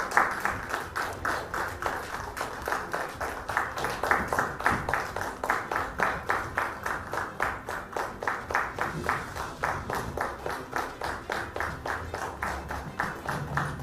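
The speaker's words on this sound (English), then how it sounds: "Kindly keep the applause going while they join me on the dais." An audience at the INAE annual convention's inaugural and award function claps in a steady, rhythmic beat of roughly three claps per second, sustained evenly at moderate loudness for about fourteen seconds.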